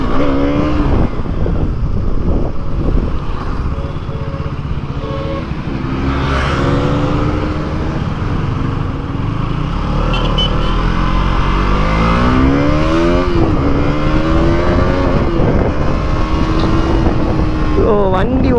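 A KTM Duke 200 BS6 motorcycle is ridden on the road, its engine droning steadily with rising and falling revs under constant wind buffeting for the whole stretch.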